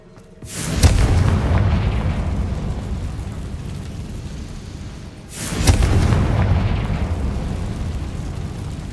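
In the Hogwarts Legacy video game, the Confringo blasting curse sets off two heavy booming explosions, the first near the start and the second about five seconds later, each with a loud attack and a long, rumbling decay.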